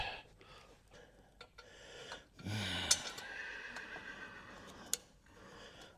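A horse whinnies once, a rising, shaky neigh, with softer breathing and snorts around it and a few scattered knocks.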